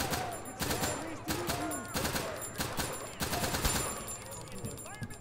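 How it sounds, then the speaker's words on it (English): Rapid bursts of chain gun fire in the horror game My Friendly Neighborhood, loud repeated volleys in a noisy room, with a voice talking over the shooting. "Let's use the chain gun"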